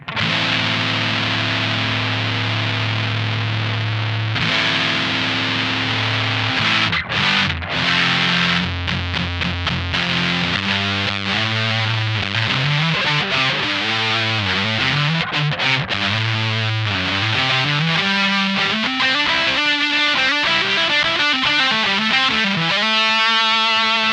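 Electric guitar played through a Deaf Watts Cutting Teeth Too pedal with the gain pushed up, giving a thick, saturated distorted tone with sustained chords and then busier riffing and single-note runs, loud and steady throughout with no talking.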